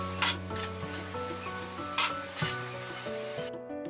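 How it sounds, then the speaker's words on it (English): Potatoes frying in a pan for a chicken stew dinner, a steady hiss of sizzling oil with occasional scraping stirs and utensil knocks, close and continuous before cutting off abruptly at the end. "My potatoes are a little too fried."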